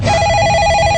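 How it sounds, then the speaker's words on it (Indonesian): A telephone rings loud and close with a continuous electronic warble that fills the whole moment, and no one speaks over it. "Ada yang telepon lagi kayaknya."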